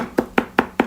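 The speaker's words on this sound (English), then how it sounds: "I'm going to go ahead and chop it really good, really finely" A knife chops finely through fresh cilantro on a cutting board, four crisp, evenly spaced strikes close by with no talking.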